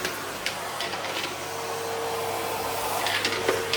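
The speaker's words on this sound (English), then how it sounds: "I'm going to vacuum this dog bed because it's covered in bits." Vacuum cleaner running steadily as it cleans a hair-covered dog bed indoors, a continuous close broadband whoosh with a faint tonal whine and brief louder surges as the nozzle moves.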